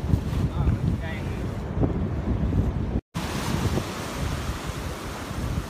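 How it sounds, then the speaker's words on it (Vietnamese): Sea waves wash on the rocky Quang Ngai coast while wind buffets the microphone, a constant rough roar with surging surf, close and fairly loud, with a brief dropout in the middle. "Đây là một vùng biển của Quảng Ngãi mọi người."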